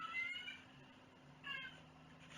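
A cat meow played from a small recorded greeting card, two thin, high-pitched calls close by and fairly quiet, alone without talk.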